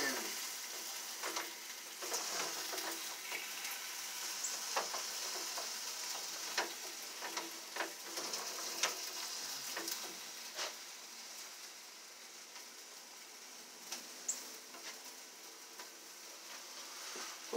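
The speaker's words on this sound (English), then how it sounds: "Cooking on the grill." Sausage links sizzle on an outdoor grill at a cookout, a steady soft frying hiss with scattered sharp pops and crackles, no talk.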